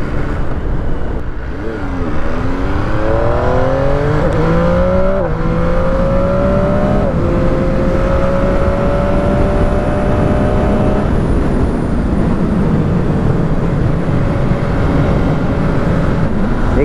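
An MV Agusta 800 Dragster Rosso motorcycle ridden hard, its engine revving up through several rising gear pulls with shifts in between, then holding a steady high drone, loud and close with wind rush and no talk.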